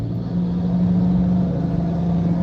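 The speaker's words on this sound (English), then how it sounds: "I want you to hear this, that diesel has a turbo" A turbocharged diesel truck engine accelerates on a road nearby, a steady low mid-range drone with a sustained tonal hum that holds roughly even for a couple of seconds, with no talk over it.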